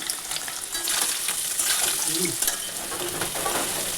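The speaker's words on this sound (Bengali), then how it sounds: "এখানে পনির ভাজা বসিয়ে দিয়েছি" Paneer fries in a pan at home, a steady close sizzle and crackle of hot oil with faint scraping, no voices.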